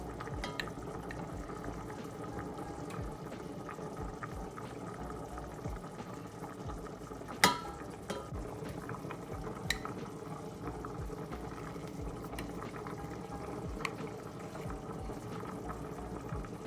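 Melting peanut butter bubbling in a pot on the stove, a steady, faint, watery simmer with soft continuous burbling and a few sharper pops and clicks, no voices.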